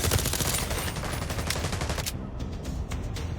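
Sustained automatic gunfire in The Division Resurgence, a dense rapid volley of loud shots rattling continuously with a brief dip in the high crackle midway.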